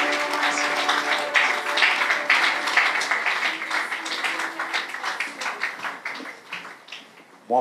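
Congregation applause at a church service, a steady wash of clapping hands lasting several seconds, with faint murmuring voices and sustained musical tones underneath before it thins out toward the end.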